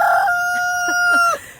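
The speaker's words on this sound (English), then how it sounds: "I thought it was gonna crow for you guys. There it is." A farm rooster crows once, close and loud, a long sustained cock-a-doodle-doo with a few stuttering notes before it cuts off, heard alone in a quiet barnyard during morning feeding.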